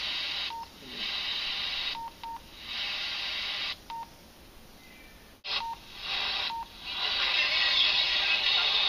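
Handheld radio receiver in frequency mode tuning through local radio stations, giving steady loud static hiss broken by short electronic beeps and brief dropouts as it jumps between frequencies.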